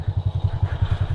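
A standard-engine Honda Astrea Grand motorcycle fitted with a Jupiter carburetor and Smash clutch parts, running while ridden, gives a steady, close, rapid low pulsing beat throughout, with no talk.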